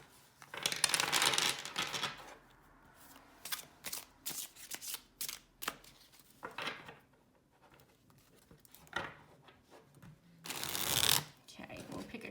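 A small tarot deck, slightly under standard size, is shuffled by hand in close, crisp bursts of riffling and patting cards with short pauses between them, and a voice talks quietly in the background.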